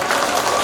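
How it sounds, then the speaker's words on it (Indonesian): Applause during a farewell ceremony at a seminary, Seminari Tinggi Santo Petrus Ritapiret, a steady dense wash of many hands clapping, fairly loud and continuous without a break. "Mari kita mengiringi penyerahan ini dengan tepuk tangan yang meriah"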